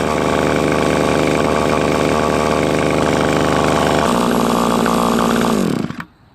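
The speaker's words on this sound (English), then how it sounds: "There seems to be a problem with the engine as it won't go to full speed when I depress the pedal." A string trimmer's small two-stroke engine, long in storage and with a frozen trimmer head, runs loud and steady but never reaches full speed, then abruptly cuts out near the end.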